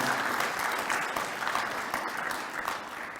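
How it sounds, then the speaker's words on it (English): A university audience in London gives steady, moderately loud applause after a vice-chancellor's speech, dense clapping that slowly fades over a few seconds. "So I think all that needs a round of applause"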